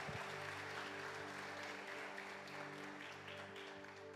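A church congregation applauding during a Portuguese-language sermon on forgiveness, heard at a distance under a steady background hum with an even, sustained texture throughout.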